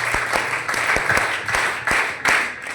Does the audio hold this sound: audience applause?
yes